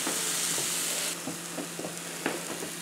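Chicken of the woods mushrooms sizzle and fry in butter in a pan, a steady crackling hiss with a few soft stirring clunks, close and continuous with no voices.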